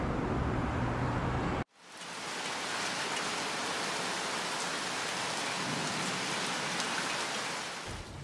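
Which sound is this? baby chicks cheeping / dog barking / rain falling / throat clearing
rain falling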